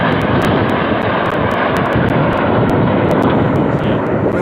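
Red Arrows jets fly overhead at a G7 Summit with a loud, continuous engine roar that holds steady throughout, mixed with wind buffeting on the microphone.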